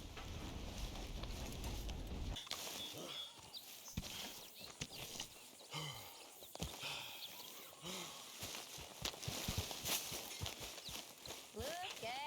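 Hoof clip-clops of a horse walking at a steady pace in Red Dead Redemption 2, mixed with game ambience and a voice talking over them.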